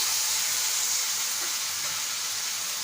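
Finely chopped tomatoes, three of them, go into softened onions frying in a pan for a prawn masala gravy, giving a steady, even sizzle and hiss, close and continuous without talk.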